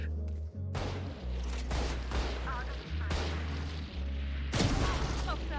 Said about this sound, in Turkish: Adam base'i Odin'le takıyor.